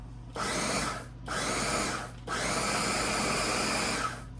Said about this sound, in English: So I'm going to put this on chop, and I'm just going to chop it up so it's a little bit finer.